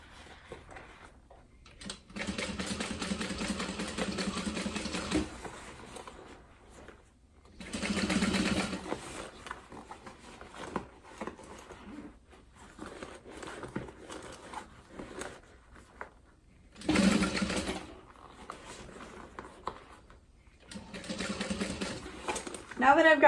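A sewing machine stitches the seams of a zip-top tote bag in several separate bursts of rapid, steady whirring, with quiet pauses between runs and a voice talking softly at times.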